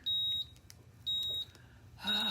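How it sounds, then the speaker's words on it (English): Two clear high-pitched electronic beeps, each about half a second long, followed by the start of a third, with a low hum beneath. "It wants between 20 and 30 seconds of heat, and it starts beeping at 8."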